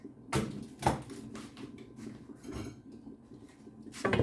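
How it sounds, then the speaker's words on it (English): Ingredients for a vegetarian stew get mixed in a cooking pot, with a few distinct clanks of a utensil against the pot and soft scraping and stirring sounds between them, fairly quiet and close. "As you can see, I'm mixing everything together, and then I will allow it to cook."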